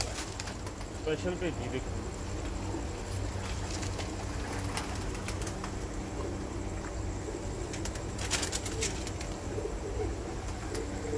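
Pigeons coo softly and repeatedly inside a pigeon loft in Faisalabad, with occasional wing flutters, while someone speaks over the birds.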